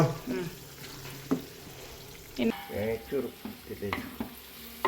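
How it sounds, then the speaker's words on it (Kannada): Wheat flour and raisins roasting in a pan, with soft scraping and stirring strokes against the pan over a faint sizzle, irregular and fairly quiet throughout. "ಗೋಧಿ ಹಿಟ್ಟು ಈ ರೀತಿ ಚಂದ ಮಾಡಿ ಬ್ರೌನ್ ಕಲರ್ ಬರೋ ತನಕ ಹುರ್ಕೊಳ್ಬೇಕು"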